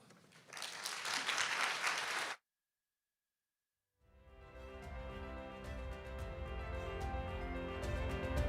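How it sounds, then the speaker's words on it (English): Warm audience applause at a global health and welfare forum in Taiwan: a dense burst of clapping that stops suddenly, followed by silence and then tonal music. "So let us warm applause to Professor Hsiao"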